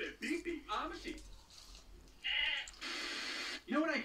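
A voice imitates a sheep's bleat in a cartoon sketch, with several wavering bleating calls near and loud amid other speech.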